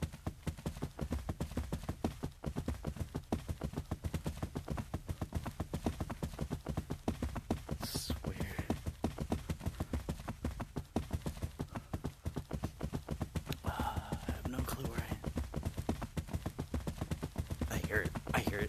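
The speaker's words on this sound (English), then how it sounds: "I heard footsteps." Footsteps in a horror video game, a rapid steady run of thuds throughout, loud and close, with brief whispery bursts and occasional talk.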